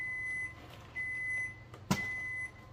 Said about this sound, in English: Microwave's beeping.